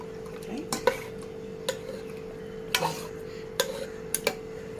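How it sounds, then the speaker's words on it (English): A spoon stirs chicken masala in oil in a pan on a high flame, giving a handful of sharp scraping clinks at irregular intervals over a faint steady hum. "It's on high flame and we are going to stir it for a while. Just mix it with the oil."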